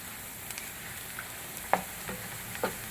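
Ingredients for Andhra-style toor dal pappu frying in a pan, a quiet steady sizzle with a few faint ticks and light stirring scrapes, no speech.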